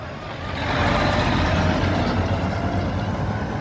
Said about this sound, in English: Spreader truck.